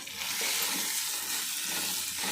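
Chicken frying in sesame oil in a pan, a continuous soft hiss and sizzle with light stirring scrapes, fairly quiet and steady, no voices.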